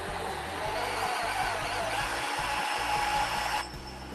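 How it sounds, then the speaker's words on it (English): A bandsaw runs steadily with a broad, continuous whir and low motor hum, fairly close and loud, dropping slightly in level near the end as it keeps going. "There's my bandsaw."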